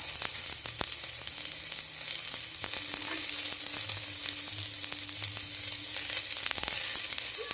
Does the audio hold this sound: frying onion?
yes